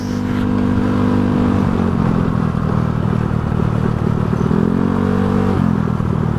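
A Yamaha Mio Sporty 160cc motorcycle engine hums steadily at cruising speed on the road, loud and close, with wind rush and a brief shift in engine pitch partway through.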